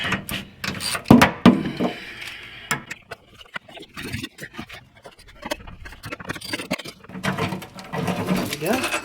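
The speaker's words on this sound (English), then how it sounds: "Wrench, wrench, wrench." Wrench working the fuel tank strap bolts under a 2000 Ford F150, rapid ratcheting clicks and scraping metal in irregular bursts, close and loud, with gravel and dust around.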